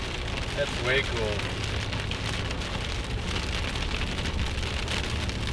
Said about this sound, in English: End the day with a rainstorm.